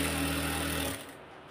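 A sewing machine stitches fabric in a steady, loud mechanical hum, running for about a second before stopping and leaving quiet room noise.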